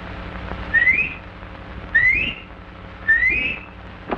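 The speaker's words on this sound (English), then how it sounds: "Three whistles." Three rising whistles blown in a 1948 musical film, evenly spaced about a second apart, each a short upward-sliding tone, clear and close over quiet room tone.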